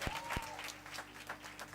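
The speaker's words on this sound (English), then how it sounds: "Let's give them a round of applause." Applause from an audience at a university women's conversation event with royalty, clapping for a choir after its performance, a steady patter of hands with a faint voice briefly heard over it.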